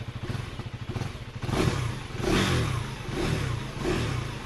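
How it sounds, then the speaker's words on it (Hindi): A 2023 KTM Duke 390 motorcycle with an enlarged air intake and a shorter exhaust, recorded up close by the exhaust, putters at idle and then gives several short revving swells with a mechanical clatter. "ये है बाइक की आवाज़।"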